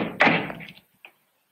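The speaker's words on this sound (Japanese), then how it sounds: "私はドアを少し開けた。" A door in a quiet room is eased open just a crack with its security chain still fastened: a short wooden thunk followed by a faint rattle of the chain, then silence.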